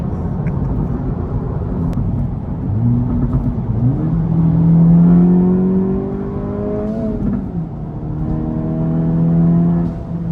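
A 400 WHP 2024 Acura Integra Type S accelerates hard, its engine note climbing through the revs in repeated rising pulls with brief drops between gears, loud and close with a steady road rumble underneath.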